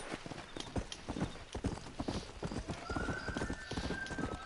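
Horse hooves clip-clop in a fast, steady rhythm during a ride in the video game Red Dead, close and clear, with a brief whinny-like tone and some faint background sound.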